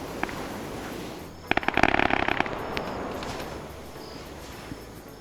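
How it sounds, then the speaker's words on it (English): Mortar rounds landing in a multiplayer military match: a rapid cluster of sharp crackling bangs lasting about a second, with a few scattered pops before and after over steady background noise. "More mortars coming in, but they are very short, and it looks like they're only the smoke variant."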